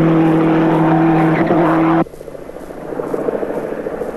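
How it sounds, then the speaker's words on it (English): Nissan turbo race car at the 1983 Bathurst 1000 roaring loudly past for about two seconds, then dropping abruptly to a quieter, rising engine note. "a totally different sound of the turbo"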